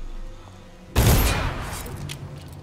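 A single sharp, loud gunshot from Dishonored cracks out after a quiet low hum and fades with a lingering reverberant tail.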